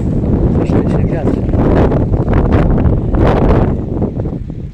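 Strong wind buffets the microphone in a continuous roar, with gusts rising and falling throughout.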